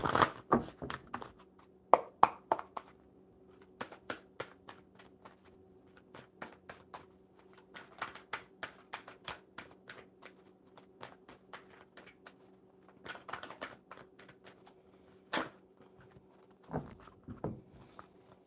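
A deck of oracle cards is shuffled at length, close up, as a long run of soft flicks and taps with a few louder riffles, with a faint steady hum beneath.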